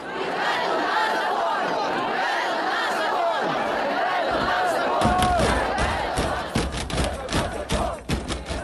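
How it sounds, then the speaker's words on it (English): Crowd of Kyiv residents protesting outside the president's office, a dense mass of shouting and chanting voices with rising calls, then sharper thumps and clatter as the crowd noise breaks up, fairly loud and near. "thousands of Kiev residents gathered outside the president's office to protest"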